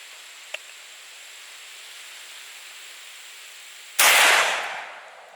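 A shotgun firing a shell loaded with nails at a steel target: one loud, sharp blast with a ringing, decaying tail, preceded by quiet outdoor background and a faint click.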